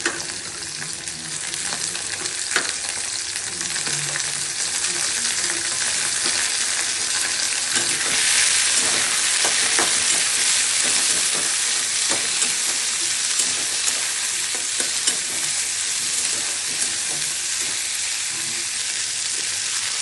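Prawns fry in a pan as lesra is added, giving a loud, steady sizzle with scattered pops and stirring scrapes throughout, and no one speaks.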